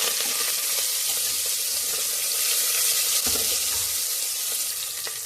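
Mustard seeds, crushed onion and garlic, two dried red chillies and curry leaves tempering in hot oil for a village-style horse gram and jackfruit curry, giving a steady close sizzle and crackle with a brief burst of stirring noise, no talk.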